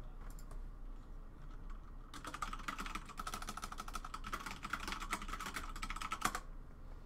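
Rapid keyboard typing with bursts of clicky keystrokes starting after about two seconds, continuing steadily near and fairly loud with a low background hum, no talking.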